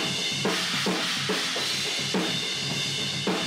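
Metal drumming comes through room mics run into a fully cranked Warm Audio preamp, giving a dense, distorted wash of fast cymbals and pounding kick and snare hits, loud and continuous.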